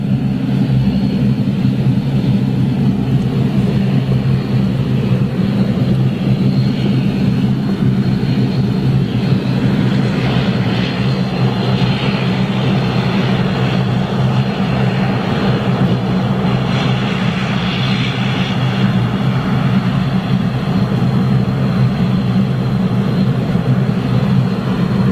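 A Bombardier CS Series (C Series) airliner flies over an air show in Manchester, its jet engines producing a steady, loud, continuous roar that holds throughout without voices.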